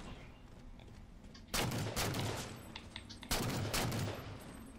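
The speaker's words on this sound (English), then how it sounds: "I just got two kills with the pistol." Two close bursts of pistol fire in Halo: The Master Chief Collection, loud sharp reports about two seconds apart, each ringing out briefly over a low background of game ambience.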